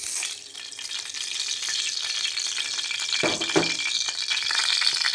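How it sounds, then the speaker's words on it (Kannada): Oil in a hot pan for tempering, with mustard seeds already added for curd curry, giving a steady close sizzle with crackling and a brief rattling clatter partway through. "ಒಗ್ಗರಣೆ ಕೊಡೋಕ್ಕೆ ಎಣ್ಣೆ ಹಾಕ್ತಾ ಇದ್ದೇನೆ ನೋಡಿ"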